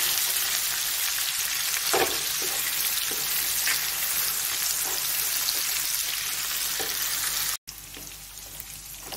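Capsicum and raisins fry in hot oil in a pan for vegetable fried rice, a steady dense sizzle with light stirring taps, briefly cut off near the end and resuming more quietly.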